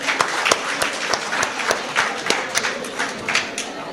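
Applause from the audience at a golden jubilee celebration, a dense, sustained round of clapping from a sizable crowd, steady and fairly loud with no voices over it.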